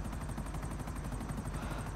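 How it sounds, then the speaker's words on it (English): A helicopter in a video game, its rotor chopping in a steady rapid pulse with a continuous low engine drone, loud and close throughout without any talking. "I just sit here driving the helicopter, admiring the sunset"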